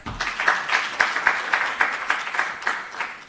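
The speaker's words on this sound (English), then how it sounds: "Please give him a round of applause." A conference audience at a session on innovation for African universities applauds a speaker, with moderate clapping in a loose rhythm of distinct claps, fading slightly toward the end.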